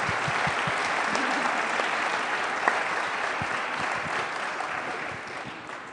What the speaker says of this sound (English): we'll end with a big round of applause